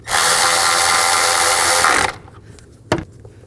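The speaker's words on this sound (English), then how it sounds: "Tighten down the bolt." A power tool whirs steadily and loudly for about two seconds while tightening a bolt on the engine of a 2010-16 Cadillac SRX during VVT solenoid replacement, then stops abruptly, followed by a single sharp click.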